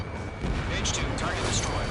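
Missile launch and impact in the Ace Combat 7 flight game: a steady roaring rush of engine and rocket noise with brief hissing bursts, loud and continuous, with a radio voice talking over it.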